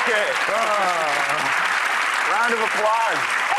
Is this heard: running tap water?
no